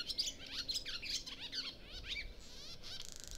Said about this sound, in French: on n'entend que les oiseaux